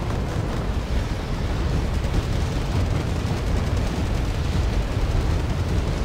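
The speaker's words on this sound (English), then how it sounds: "retaliate with just a wide barrage of grad strikes" A wide Grad rocket artillery barrage in the strategy game Wargame, a dense continuous roar of overlapping launches and distant impacts rumbling on without pause, with no voices.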